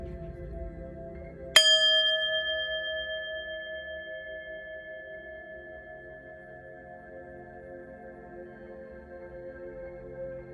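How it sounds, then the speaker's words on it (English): A single small bell struck once during an energy-clearing ritual, a sharp strike followed by a clear ringing tone that decays slowly over several seconds, alone against a quiet background. "I'm going to ring the bell"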